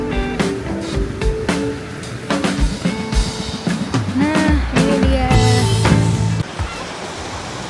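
Ocean surf rolls and crashes close by at Three Colour Beach under a strong wind, a continuous loud roar with swelling breaks, while a person speaks briefly.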